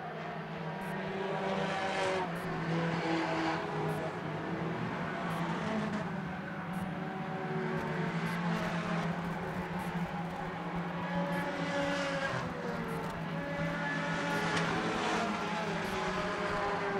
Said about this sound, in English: Mike Golding and Butch Keane. The 26 and the two car. Just about bumper to bumper, coming out of turn two, duking it out for the top three.